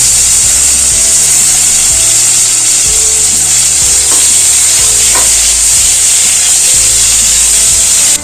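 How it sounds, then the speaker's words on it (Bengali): Paneer cubes frying in hot oil in a kadai, a loud, constant sizzle with repeated scraping strokes of a spatula stirring the pieces, no voices. "এই পনিরগুলো হালকা করে ভেজে নেব"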